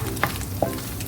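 Egg and vegetables, bitter gourd among them, being stirred together in a pan, with a steady sizzle of frying underneath and a couple of brief spatula scrapes standing out.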